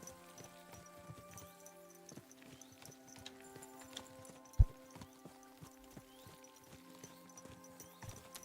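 Horse hooves walk at a steady clip-clop in Kingdom Come: Deliverance II, a medieval-set game, the soft regular footfalls sitting under a busy layer of game ambience and music, with one sharp thump partway through.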